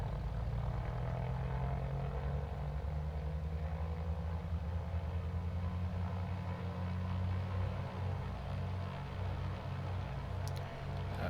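A SOCATA TB-30 Epsilon's piston engine, in Microsoft Flight Simulator, holds a steady droning run-up at 2000 RPM, a continuous low propeller hum with slight pulsing, close and unbroken throughout.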